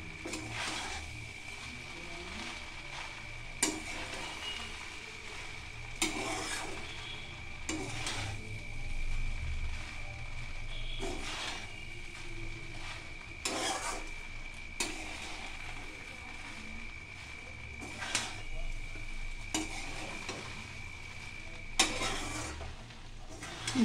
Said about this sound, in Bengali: তারপর সেটাকে আমি এই ঘিয়ের মধ্যে আস্তে আস্তে করে ভেজে নেব।